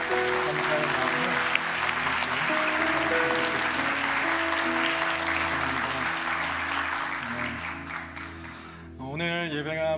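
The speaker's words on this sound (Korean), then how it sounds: "우리 한번 큰 박수로 우리 귀한 목사님과 장로님 감사의 마음을" A church congregation at a Sunday service applauds in a long, steady wave of clapping that fades slightly toward the end as a voice returns over it.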